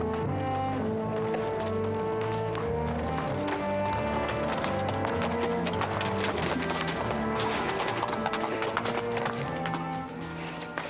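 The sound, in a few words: horses hooves clip-clopping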